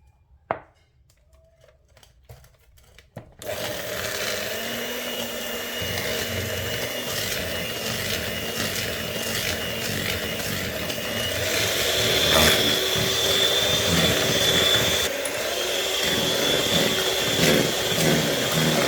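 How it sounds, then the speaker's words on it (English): An electric mixer beats eggs into a ginger biscuit mixture with molasses. After a few light clicks and knocks, a steady motor whir starts and runs continuously and fairly loud, with small rattles from the bowl. "I'm just going to add these in and beat them well until they are well combined"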